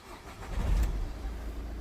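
A 2015 Vauxhall Vivaro van with a 1.6 CDTi diesel engine cranks briefly and catches, a short low rumble swelling then settling into idle, faint and heard without speech.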